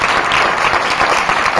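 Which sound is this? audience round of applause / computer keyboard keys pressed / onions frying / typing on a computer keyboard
audience round of applause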